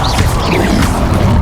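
Protego shield spell in Hogwarts Legacy, a brief loud whack-like magical impact layered over busy game combat noise.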